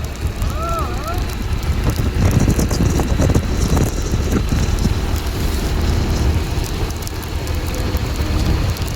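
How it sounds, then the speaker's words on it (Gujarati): Rain pours steadily amid gusting wind and microphone buffeting, loud and continuous; a brief voice-like tone briefly rises early on. "આ બાજુ જોવો તમે વરસાદ."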